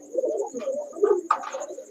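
Pigeons in a loft give low, throaty coos in short repeated phrases, close and fairly quiet, with a faint steady hum behind them.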